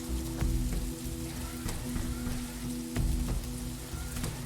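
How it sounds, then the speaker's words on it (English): Rain falls in the base-building strategy game The Riftbreaker, a steady soft patter with scattered louder drops and crackles, faint and continuous with no voices. "This rain is harmless to our base, but it decreases solar panel efficiency until it stops."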